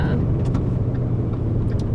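Steady low rumble of a car engine and road noise heard from inside the moving vehicle, constant and moderately loud with no breaks.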